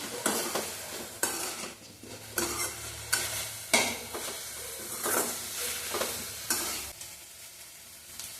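Five dried red chillies frying in a pan, with repeated loud spatula scrapes and clacks in an uneven rhythm over a low sizzle.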